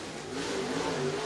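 Race car engine at Tazewell Speedway in Tazewell, Tennessee, a short-track stock car, droning steadily at mid pitch with a slight rise in revs, heard alone at moderate distance.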